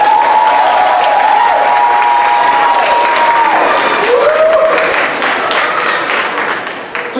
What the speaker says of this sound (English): Please give another round of cheer to the students.